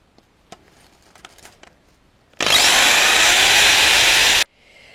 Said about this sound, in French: Donc on va donc percer au milieu où nous venons de faire notre petit trait.